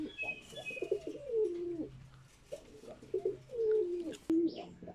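A high-flyer pigeon gives several close, throaty coos in two rolling bursts, fairly clear against a quiet background.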